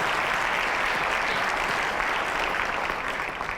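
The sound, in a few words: audience applause for award recipients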